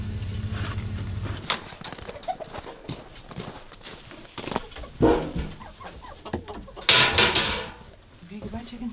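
Chickens cluck and shuffle around close by, with scattered short clucks and bird calls among thumps and rustling, while people talk intermittently over the activity.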